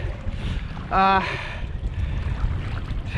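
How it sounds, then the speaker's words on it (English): Strong wind buffets the microphone on a kayak during a fishing trip in a bay. The blustery rush is steady and noisy, and a brief tonal squeal cuts through it. "if anything, the wind is stronger than it was before"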